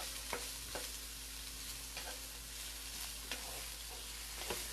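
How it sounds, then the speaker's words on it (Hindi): Chopped onions and cut chillies sauté in a pan, a constant low hiss of frying with occasional soft spatula knocks every second or so, faint and without voices. "तो cook the onions till they turn translucent."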